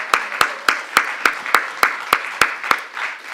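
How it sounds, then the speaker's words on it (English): A single person claps about eleven times in a steady, even rhythm, sharp and close, with no crowd joining in, at a panel discussion. "can we just have an initial round of applause for our panelists?"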